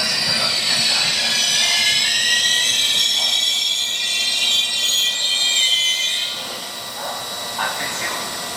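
A transit train rushes through Milano Rogoredo station on a rainy day, a loud sustained roar and hiss of passing cars with high wheel squeal that eases off near the end.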